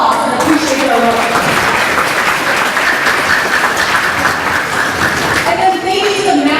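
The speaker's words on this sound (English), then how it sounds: "let's give them a round of applause and appreciate their work" Banquet audience applauding volunteers, a dense steady wash of many hands clapping throughout, close and loud, with some voices mixed in near the end.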